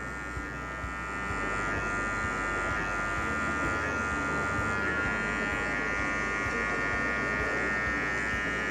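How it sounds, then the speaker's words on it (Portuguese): A steady electric clipper buzz runs throughout as a low guard passes through a short beard, close and continuous with small wavers in tone as the blade moves along the edge. "aí eu devo atuar com a máquina de corte novamente. Eu venho com o pente baixo, eu vou passar aqui nesse cantinho"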